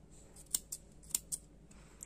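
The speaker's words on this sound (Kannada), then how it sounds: "ಥ್ರೆಡ್ ಅನ್ನ ಹೊರಗಡೆ ಎಳೆದು ಟ್ರಿಮ್ ಮಾಡ್ಕೊಂಡು ಎಂಡ್ ಮಾಡ್ಕೊಳ್ತಾ ಇದ್ದೀನಿ" Small scissors snip loose saree kuchu threads, making four or five sharp, quiet clicks in quick succession, close by and without talk.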